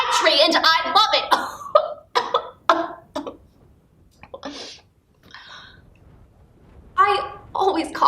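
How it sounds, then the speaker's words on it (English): A ghost-walk performer playing a character coughs in a rough run of bursts, with a few fainter coughs and throat noises spaced through quieter gaps and another cluster of coughs at the end. "I always cough when I get agitated"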